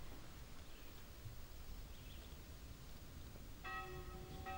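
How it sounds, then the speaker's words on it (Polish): Church bells of São Miguel church ring inside the walls of Guimarães castle, faint and distant. The clear tolling strikes come in near the end over a low, steady outdoor ambience with hints of birds and rustling. "dzwony położonego wewnątrz zamkowych murów kościółka São Miguel zapowiadają chrzciny"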